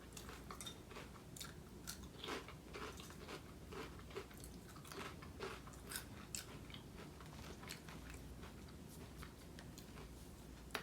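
Miss Vickie's Spicy Dill Pickle potato chips crunch in faint, close, repeated crisp bites and steady chewing, with no talking.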